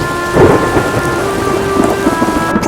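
Heavy rain pours steadily at Sitapur base camp on the Kedarnath trek while thunder rumbles low and long through the downpour; no voices.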